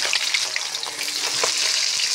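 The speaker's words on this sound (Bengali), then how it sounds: "এই যে মাছ ভাজতেছি, রুই মাছ," Rohu fish frying in a kadai, a continuous close hiss and crackle of oil with small spattering pops and a faint stirring scrape, no voices.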